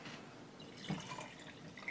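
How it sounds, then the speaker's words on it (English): Trap dye dripping into a can, faint scattered drips and trickles with one slightly louder splash partway through, close and quiet. "I want to slosh out a little bit of the dye on the third pour"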